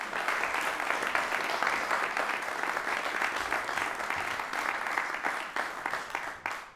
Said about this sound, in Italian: direi un altro grande applauso per questi due maestri che ci hanno fatto davvero emozionare